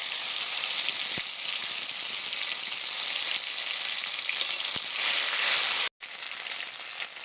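Whole cumin seeds with ginger and green chili paste hiss loudly in hot oil, a dense, continuous sizzle with a couple of faint taps and one brief dropout near the end.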